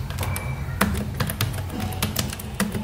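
Keystrokes rattle on a computer keyboard while an instance named my first server is set up, a steady run of close, crisp taps with a few louder clacks and no voice.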